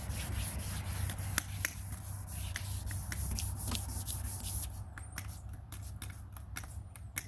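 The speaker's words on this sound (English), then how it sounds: "these cheap spray bottles suck" Cheap spray bottle misting water during wet sanding of a 1996 Sea-Doo GTI hull; steady close rubbing of sandpaper with brief hissing spritzes scattered throughout, no talking.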